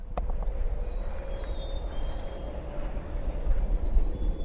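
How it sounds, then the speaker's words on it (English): A black-capped chickadee whistles its clear 'hey sweetie' love song outdoors in Maine, faint and distant over a steady rumble of low background noise. "Chickadees doing their "Hey Sweetie" love song."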